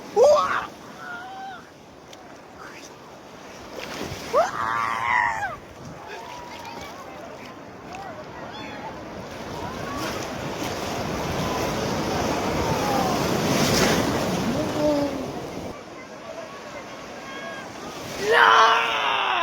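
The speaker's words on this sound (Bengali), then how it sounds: "ঢেউটা দেখো, ঢেউটা" Ocean surf at Digha beach rolls in, a broad rushing swell building and fading, with voices talking at the beginning and end.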